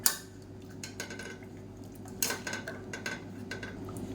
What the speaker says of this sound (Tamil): மத்து இருந்துச்சுன்னா எல்லாத்தையும் நல்லா கடைஞ்சி விட்டுக்கோங்க